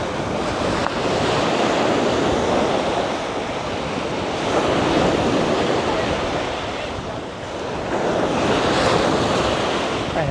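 Surf rolls onto Samae Beach on Koh Larn island as wind buffets the microphone, a loud, continuous wash that swells and eases in slow waves.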